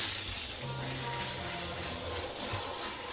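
A hair system is rinsed under a running tap, giving a steady close hiss of flowing water splashing into a sink.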